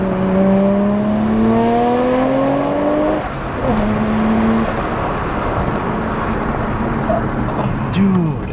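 Nissan Skyline R33 GTR with a JDM titanium exhaust revs loudly up close, engine tone climbing in long sweeps and then dropping back, with excited voices talking over it.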